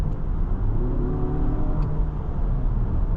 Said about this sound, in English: while the 4-cylinder engine doesn't sound nearly as good as the V6 did